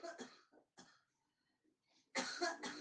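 A woman coughing at a home worship gathering, several harsh close coughs and throat clearing in bursts separated by brief quiet, ending with a louder cluster.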